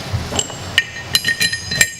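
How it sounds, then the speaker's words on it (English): Metal bolts clink one after another into the transparent cover of a Jerguson gauge during reassembly, giving about six bright, ringing taps at irregular intervals, close and clear with no talking. "I'll start by putting my bolts in the cover."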